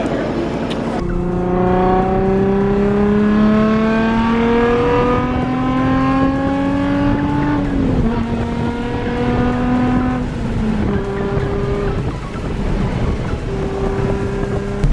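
Cheap daily driver car on the road, a steady engine drone that rises in pitch through the gears with a couple of shifts, loud and continuous with wind and road noise inside the cabin.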